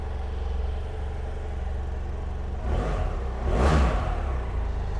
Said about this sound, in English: Engine sounds absolutely phenomenal. Nice and smooth.